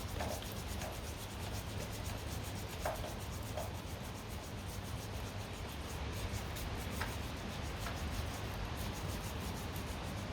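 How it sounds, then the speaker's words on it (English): Brush bristles scrubbing the flange of a 5-inch gauge Class 31 diesel locomotive wheel turned by hand, a faint, close, continuous rough rubbing hiss with a few small ticks. "simply pressing on with the bristles of the brush, trying to get into the"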